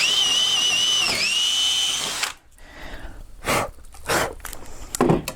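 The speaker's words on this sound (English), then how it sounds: "And I'm drilling all the way through." A power drill whines steadily at high speed for about two seconds while drilling through wood, pitch dipping briefly under load, then stops, followed by a few short clattering knocks.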